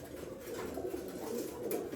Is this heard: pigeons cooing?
yes